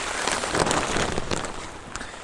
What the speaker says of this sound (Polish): No tu jest trochę ciszej, ale deszcz pada.